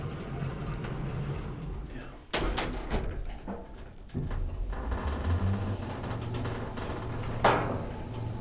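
Sliding doors of an old Kone traction elevator opening and closing, with clunks and a rolling slide under quiet conversation nearby.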